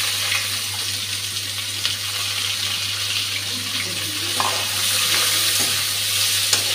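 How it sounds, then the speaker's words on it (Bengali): Onions and green chillies fry in a pan for a katla fish dish, making a steady, even sizzle that runs the whole time with a faint low hum beneath and no talking. "পেঁয়াজ আর কাঁচা লঙ্কাটা দিয়ে দিচ্ছি এখন।"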